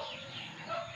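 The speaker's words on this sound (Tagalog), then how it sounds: "So yan po ang manok." Short, close chicken clucking over a faint background hiss, a quick run of soft clucks lasting about a second.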